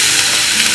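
Chinese prawn fried rice with runny egg, soy and sesame oil being stirred in a hot pan, a steady close sizzle with scraping, brief and unbroken.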